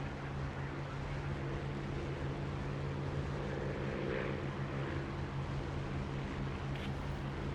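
A propeller aircraft flies in formation with a steady, droning engine hum that stays close and constant throughout, with no talk.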